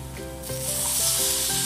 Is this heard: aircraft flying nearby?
no